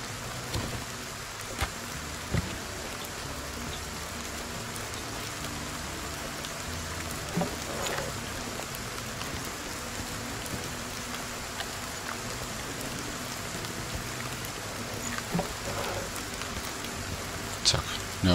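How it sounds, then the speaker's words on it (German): Rain falling in the video game Force of Nature II, a steady soft hiss of droplets throughout with occasional faint ticks, quiet and continuous. "Und es regnet."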